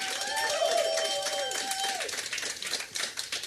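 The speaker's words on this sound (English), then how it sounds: "Give yourselves a big round of applause" Audience on a cruise ship clapping together in a dense, steady burst of applause that stays strong the whole time, with a drawn-out whistle or shout early on.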